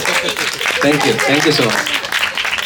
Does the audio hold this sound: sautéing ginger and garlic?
no